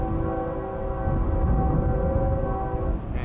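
A distant CSX freight locomotive approaches on a cold, windy day, its low steady rumble and faint tonal hum carrying from far off over a broad wash of wind noise.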